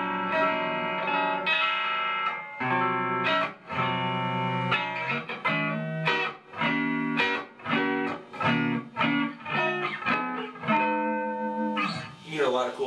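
A clean electric guitar, homemade from a wine box and played through a clean amp, plays a lively run of plucked notes and chords, bright and ringing, with brief pauses between phrases and no voices.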